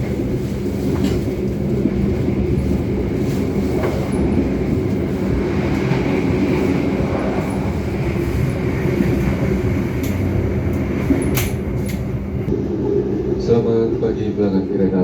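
Steady rumble of the Turangga passenger train rolling along rails as it approaches Surabaya Gubeng station in Indonesia, continuous and fairly loud throughout, with faint rhythmic clatter underneath.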